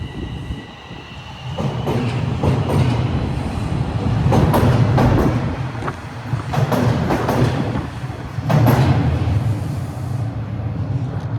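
A Toronto TTC subway train at Bessarion Station, rumbling loud and close with repeated clickety-clack wheel beats and metallic squeals swelling and fading throughout.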